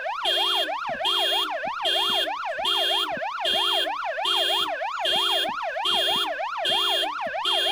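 A rapidly warbling electronic car alarm blares up close and loud, its rising-and-falling wail repeating steadily in cycles with sharp honk-like pulses underneath, running continuously without any voices.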